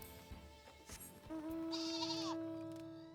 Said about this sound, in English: I ride a sheep.